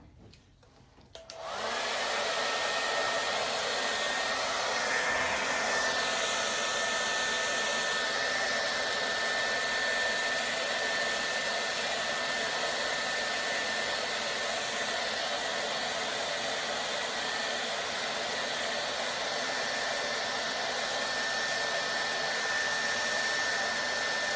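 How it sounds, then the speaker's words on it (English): A hair dryer blows steadily on a fake Christmas cake decoration, switching on after a short pause and then running as a loud, even, continuous rush of air with no talking. "I'm gonna blow dry this really quick"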